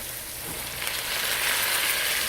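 Rainbow chard leaves go into a sizzling pan during outdoor cooking in the rain, the frying hiss swelling louder partway through and then holding steady, with no talking.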